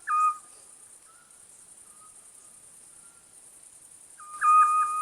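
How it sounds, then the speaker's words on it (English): A Scops owl calls in the video game Love Island: The Game, sounding as a loud, clear, repeated tonal note in two short bursts at the start and end, over a faint steady electronic hum. "A Scops owl is a local species of owl with a loud,"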